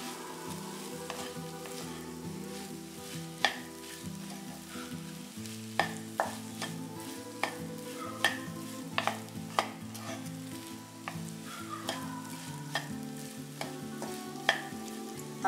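Halim (aliv) laddu mixture stir-fried in a pan, a steady soft sizzle with repeated sharp clinks and scrapes of a spoon against the pan, no voices.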